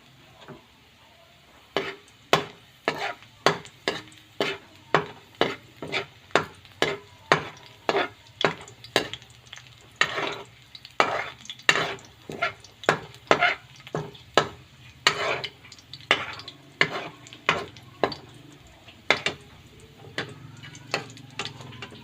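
Garlic frying in a pan until reddish-brown, heard as a long run of regular, evenly spaced stirring scrapes over a low, steady sizzle.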